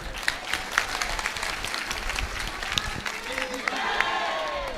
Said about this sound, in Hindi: चलो अब ताली बजाओ।